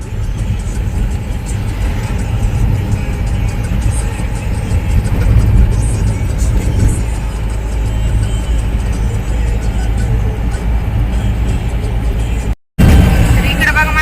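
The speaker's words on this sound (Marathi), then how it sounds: "बघा इकडे ह्या ह्या रोडने फास्ट गाड्या चालतात" Fast cars passing on a road near Nagpur, a steady loud whooshing rumble of traffic that fills the clip before cutting out briefly near the end, with a voice talking over it.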